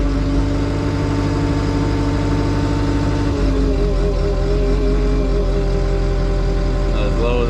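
Heavy machine engine with a raised blade idles steadily up close, its low drone stepping down in pitch partway through as the revs drop, with no voices over it.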